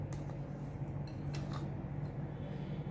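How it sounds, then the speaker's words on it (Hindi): Eggs whisked in a bowl for a sweet egg dish, a steady soft scraping and clinking of metal against the bowl, close and fairly quiet. "सबसे पहले अब हम इसे अंडे बाउल के अंदर ऐड करेंगे। इनको आप अच्छे तरीके से फेंट लें।"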